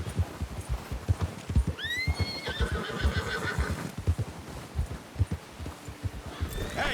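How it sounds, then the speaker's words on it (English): Horse neighing with hoofbeats in Red Dead Redemption 2: a rising whinny cuts through near the two-second mark over a steady run of heavy clip-clop and low thumping, with a fainter second whinny near the end. "Get a hold of that horse"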